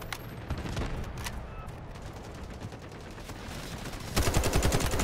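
High-recoil gun firing in the shooter Delta Force: scattered shots and short bursts against a busy battle rumble, ending in a loud rapid stream of automatic fire with no talking.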